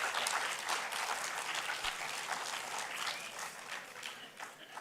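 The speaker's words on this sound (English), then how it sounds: "Big round of applause." An audience at a university anniversary celebration claps warmly, sustained dense applause that holds steady and then eases slightly toward the end.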